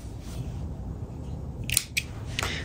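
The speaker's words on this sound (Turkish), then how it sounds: "Bir zincir çekerek ipimi burada kesiyorum." Scissors cut crochet yarn close up after a finished chained round, giving a couple of quick crisp snips over quiet room noise.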